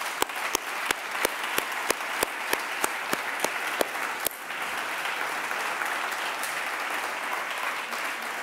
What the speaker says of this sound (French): je voudrais qu'on les applaudisse parce que je les trouve admirables.